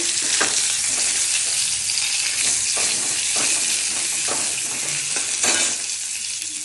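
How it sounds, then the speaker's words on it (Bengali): Eggs frying in oil already used for frying onions, a steady loud sizzle and crackle throughout with occasional stirring scrapes, no voices. "সেই পেঁয়াজ ভাজার তেলে ডিমগুলো ভেজে নেব।"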